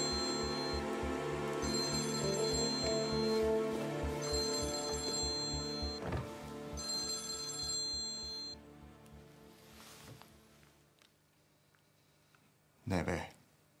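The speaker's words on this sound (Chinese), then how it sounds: "接个电话。" A telephone rings with repeated bursts of a bright, electronic tone that carry on for several seconds, then stop. A voice follows afterward.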